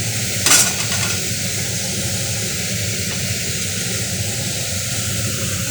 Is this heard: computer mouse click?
no